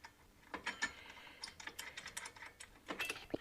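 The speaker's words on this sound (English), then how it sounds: "Put your bolts back in." Metallic ratcheting and clicking come from bolts being threaded back into a car's brake caliper in a shed, irregular bursts of close, quiet mechanical ticks with no talking.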